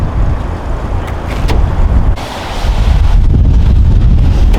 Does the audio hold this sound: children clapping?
no